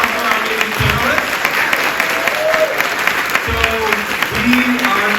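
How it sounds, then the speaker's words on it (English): Audience applause fills a Comic-Con panel room for a few seconds, broken clapping mixed with a speaker's voice talking over it through the hall's sound system. "Round of applause for our amazing panelists."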